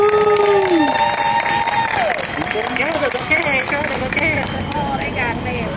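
A tour group on the San Antonio Riverwalk breaks into loud, close applause and cheering, with crowd chatter and outdoor noise mixed through it.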